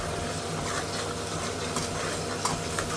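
Masala frying in a pan with prawns, potatoes, tomatoes and chillies sizzles loudly and continuously close by, with stirring scrapes and light clinks mixed in and no voices.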